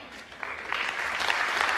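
Audience applause from a played broadcast clip, steady clapping that swells slightly over under two seconds, with faint talk mixed in.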